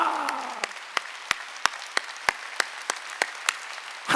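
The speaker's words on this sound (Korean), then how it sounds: "박수 치라니까" A church congregation at a Korean Sunday worship service claps in unison, sharp regular claps spaced about a third of a second apart over a soft hall background, with a brief voice at the start.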